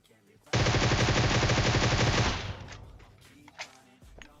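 Groza assault rifle fired in a burst of rapid automatic gunfire in PUBG Mobile, a loud continuous rattle lasting about two seconds before cutting off, followed by faint game sounds.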